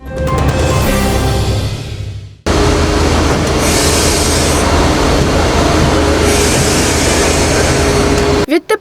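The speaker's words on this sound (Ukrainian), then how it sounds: "Міжнародний нічний поїзд чоп Прага чоп розпочинає виконання прямих щоденних залізничних рейсів." International Chop–Prague night train running on rails, a loud continuous rumble of wheels with hissing and clatter after a brief tonal hum at the start, close and sustained before cutting off near the end.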